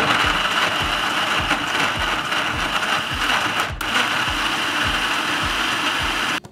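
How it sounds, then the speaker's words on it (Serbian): A blender grinding lemon, ginger and water runs loud and steady with a rattling, rhythmic mechanical churn, then cuts off abruptly near the end. "Poklopit ću i sve ću ovo samleti."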